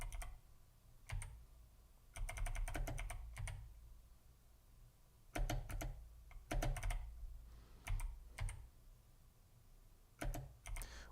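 Keys on a 1988 BBC Micro computer keyboard pressed in bursts during a game of Tetris, clattering taps in quick clusters separated by short pauses, close and clear over a low hum.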